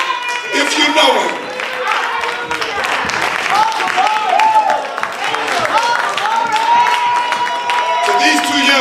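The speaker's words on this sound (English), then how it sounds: "Clap your hands if you know him." A church congregation at a Sunday morning service claps and cheers, a dense wash of hands and voices, loud and continuous throughout with shouting mixed in.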